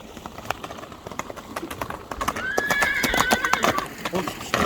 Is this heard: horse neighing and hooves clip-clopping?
yes